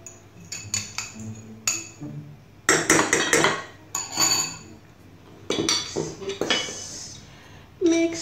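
A utensil clinks and scrapes against a dish while eggplant omelette is mixed with sardines in a bowl. The knocks come close and irregular, in short bursts with brief pauses.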